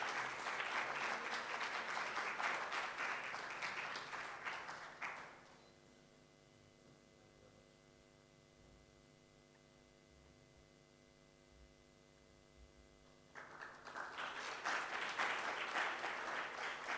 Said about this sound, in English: A round of applause there, please.